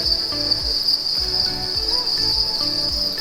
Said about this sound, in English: all the crickets up the back there